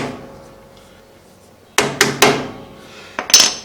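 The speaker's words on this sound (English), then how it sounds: "Pull on it with your hand, tap on it with a hammer." Hammer taps on a boat trailer wheel hub, three sharp metallic knocks in quick succession after a quiet pause, then two more, close and loud.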